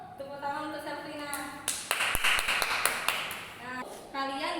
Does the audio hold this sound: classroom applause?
yes